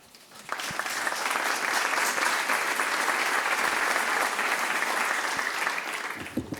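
An event audience breaks into sustained applause to welcome a speaker, a dense wash of clapping swelling in quickly, holding steady for several seconds, then fading out.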